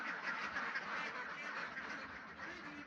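Khaki Campbell ducks quack continuously on a duck farm, a steady overlapping chorus of honking calls at moderate distance with no voices.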